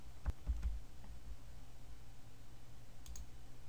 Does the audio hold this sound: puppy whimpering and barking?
no